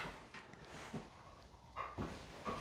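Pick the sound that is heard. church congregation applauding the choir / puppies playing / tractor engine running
puppies playing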